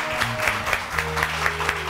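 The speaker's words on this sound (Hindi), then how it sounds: "जोरदार ताली में वेलकम करेंगे हम" A studio audience on a morning TV show claps to welcome a celebrity guest, a dense steady round of applause with rhythmic peaks, close and fairly loud, with faint music beneath.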